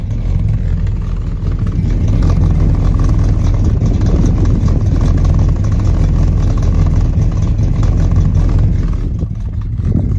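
A 1972 Buick Riviera idles with a deep, steady rumble from its dual exhaust, loud and close, with no talking.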